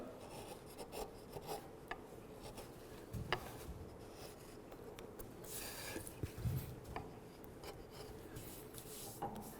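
Sharp chisel taking light cuts while carving a shell in wood, soft intermittent scraping and rasping strokes with faint taps, quiet and close, no talk.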